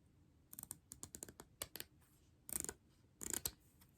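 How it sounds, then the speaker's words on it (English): Quick, crisp snips of small paper scissors trimming paper, a run of short cuts followed by two longer, louder slicing bursts, close up with no talking. "And I'm just using my little paper scissors for this."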